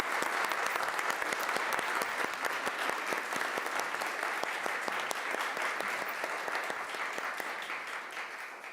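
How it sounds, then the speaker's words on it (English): Sustained audience applause at a Buncombe County Schools board of education meeting, steady dense clapping that holds for the whole stretch and tapers only slightly at the end. "let's have a round of applause for our Board of Education"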